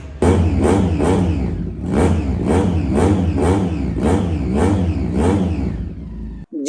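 A BMW S1000RR replica motorcycle with an aftermarket exhaust revs loudly up close in a throaty, rhythmic pattern through the deep exhaust, then cuts off abruptly.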